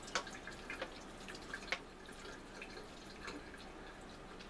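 Grease being poured off cooked hamburger meat, a light irregular dribbling and dripping with small splashes, close and faint, with no talk.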